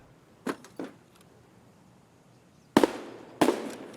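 Sharp gunshot cracks from the video game Escape From Tarkov: two quieter shots, a pause, then two louder, closer bangs over a faint background.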